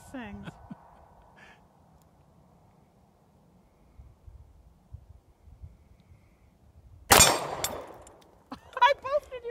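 A Barb 45 Auto handgun fires one sharp, loud shot late in the clip, with an abrupt broadband crack. Voices and faint bird-like noises come before it.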